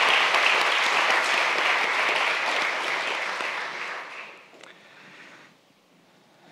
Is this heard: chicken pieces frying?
no